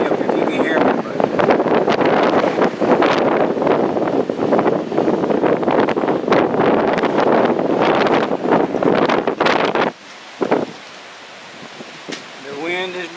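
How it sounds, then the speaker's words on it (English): Strong 22 mph wind at a kitesurfing beach in Falmouth, Jamaica, roars and buffets the microphone in a loud, continuous rush, then drops off abruptly near the end, leaving quieter gusts. "The wind is blowing."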